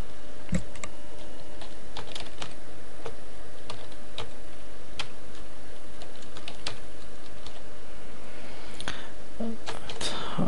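Computer keyboard typing while working in Mathematica, a steady run of close, crisp key clicks with irregular rhythm and a few sharper keystrokes, heard alone with no voices.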